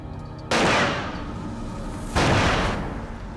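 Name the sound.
two gunshots fired at a bank surveillance camera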